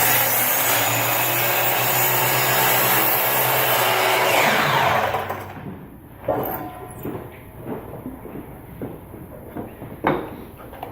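A power saw cuts wood pieces for a woodworking project, a loud steady whine for about five seconds before it cuts off, followed by quieter scattered knocks and handling noises.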